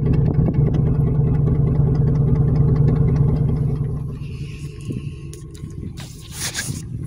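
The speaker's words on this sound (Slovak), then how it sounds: "toto je atmosférický motor, 8 valec a je to benzín" A naturally aspirated BMW petrol V8 idles with a steady low rumble that stays loud for about four seconds, then drops to a quieter, even idle.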